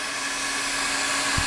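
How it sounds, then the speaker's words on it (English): Hair dryer blowing warm air on fresh paint on a Kawasaki motorcycle wheel during restoration, a steady close whooshing roar with a faint tonal hum, loud and unbroken. "a little bit of hair dryer"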